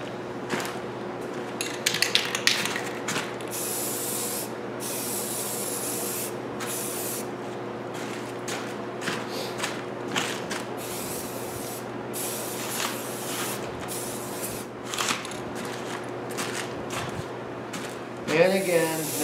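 Spray paint hisses from an aerosol can onto alloy wheels in steady close bursts broken by short pauses, with a rattling clicking mechanism underneath and a low hum throughout.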